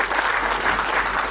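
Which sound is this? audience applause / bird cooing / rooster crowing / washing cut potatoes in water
audience applause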